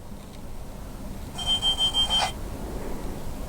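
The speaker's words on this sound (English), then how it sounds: "it's the driver buzzer" A Hornby HM7000 model train's driver buzzer sound effect plays as a short run of about five rapid electronic beeps, fairly clear over a low background hiss.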